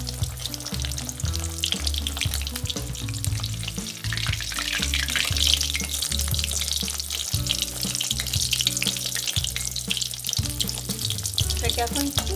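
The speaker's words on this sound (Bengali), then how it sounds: "এটাকে এখন একটু লাল করে ভাজবো।" Food sizzles and crackles steadily in hot oil while a pea-stuffed kachori is fried, a loud, close, continuous hiss with occasional stirring clatter, no voices.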